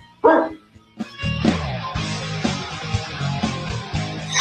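A dog barks and yips several times in quick succession, loud and close, amid a busy layered background, with no talk over it.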